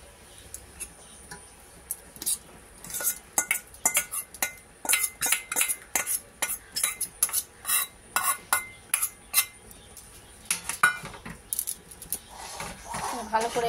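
Ground Gobindobhog rice being stirred into boiling milk in a pot, heard as a fairly close run of repeated scraping, clinking strokes of a spoon against the pot in a steady rhythm.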